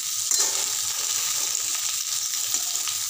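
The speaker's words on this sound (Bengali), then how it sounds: "এই দেখো কি সুন্দর করে বেগুন ভাজি দিব" Steady hiss and crackle of eggplant frying in a little oil in a home kitchen, close and continuous with faint stirring, no talking.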